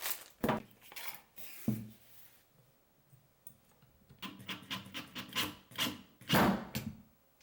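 Metal belt clip being fitted and screwed onto a Dewalt DCF894 impact wrench: a run of close, sharp metallic clicks and small clanks with pauses, the handling busier and denser toward the end.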